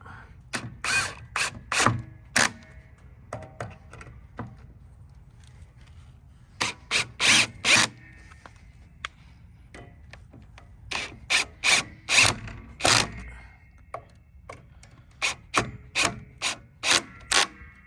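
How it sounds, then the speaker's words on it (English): Screws being driven to mount a fence gate spring, heard as repeated clusters of sharp ratcheting clicks in quick bursts, separated by quiet pauses, close and fairly loud. "now I will screw this thing in"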